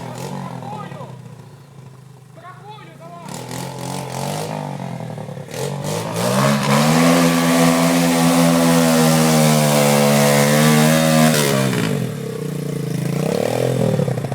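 A motorcycle engine on the Nimchych mountain pass near Vyzhnytsia revs up loudly and holds a high, rough roar before easing off, with clattering noises near the start.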